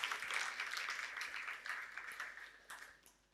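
Conference audience applauding a talk, a faint, dense clapping that fades away over a few seconds.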